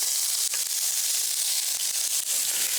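Sirloin steak strips sizzle in a pan over medium heat, giving a constant close hiss with small crackling pops throughout and no talk.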